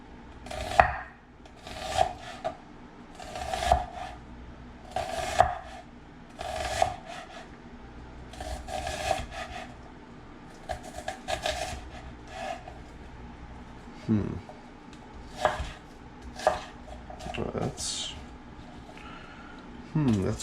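A knife cuts through an onion on a board in a home kitchen with rhythmic, fairly close slicing strokes and thuds spaced about a second or two apart, interrupted by short pauses.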